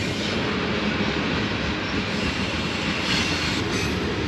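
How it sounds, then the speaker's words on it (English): A train rolls past close by, a loud continuous rumble of wheels on rails with a metallic hiss and squeal riding on top. "Keep checking out this train."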